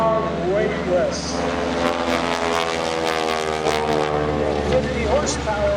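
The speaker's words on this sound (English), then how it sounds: "Lovely sound of that propeller rapping as it slices through the air. The rumble you hear after it, that's the actual exhaust note." A Super Stearman biplane performing wingwalking aerobatics at the Greenwood Lake airshow drones loudly and continuously, its rasping propeller and deep exhaust rumble rising and falling while someone talks over it.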